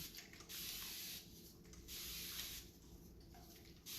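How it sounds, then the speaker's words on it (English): A spray bottle spritzes product onto hair roots in several quick, soft hissing bursts separated by short pauses, quiet and close, with no talk. "And I'm going to spritz it again."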